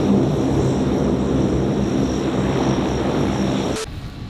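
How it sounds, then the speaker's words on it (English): A large, loud propeller airplane drones overhead near the coast, a steady roaring hum that cuts off abruptly near the end, leaving quieter background. "And we got a big ass plane coming,"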